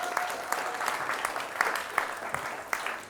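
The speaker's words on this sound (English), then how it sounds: "Give him a round of applause" A live show audience breaks into steady, moderately loud applause with scattered sharp claps, and there is no talk over it.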